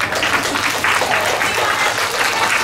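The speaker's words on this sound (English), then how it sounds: "A big round of applause for class 1C." Applause from a school assembly crowd for a young class, a steady dense patter of many hands clapping throughout, fairly loud and continuous with no talk over it.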